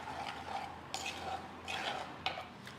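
A spoon scrapes and clinks against a dish while curd is stirred into an Onam sadya curry, several soft sharp knocks over a quiet, low wet stirring, close and faint.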